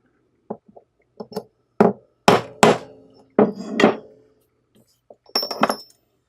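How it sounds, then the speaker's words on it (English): Sharp metallic taps of a hammer seating a copper rivet and burr into leather, roughly a dozen strikes in irregular clusters, close and crisp with quiet gaps between. "So with our copper rivet and burr, we'll gently seat to just the thickness that we want."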